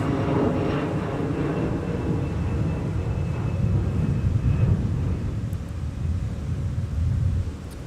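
A NetJets Bombardier Challenger 650 business jet climbs away from Minneapolis–St. Paul airport, a broad, rumbling jet roar heard from a distance that stays steady throughout.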